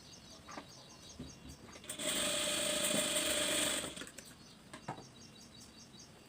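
Sewing machine stitching tucks on a blouse: a steady whirring run of stitching for about two seconds in the middle, framed by quieter clicks and handling of fabric, close and fairly soft.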